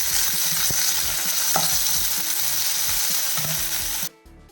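Tomatoes sauté in a pan for a chow chow dish, a dense continuous sizzle with repeated scraping stirs throughout, cutting off abruptly near the end.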